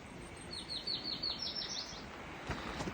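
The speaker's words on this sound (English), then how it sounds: "There's a dark-eyed junco, a yellow-rumped warbler," Birds in a Maine mountain forest, among them a dark-eyed junco and warblers, giving a quick high trilled run of chirps over a soft windy background, faint and distant.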